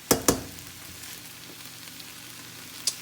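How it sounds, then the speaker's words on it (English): Garlic sautes quietly in a pan for shrimp and grits, a soft steady sizzle with a few sharp clicks and knocks of a utensil against the pan. "So you put your garlic, let the garlic just saute it a little bit."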